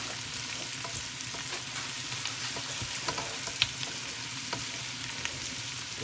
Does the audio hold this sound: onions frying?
yes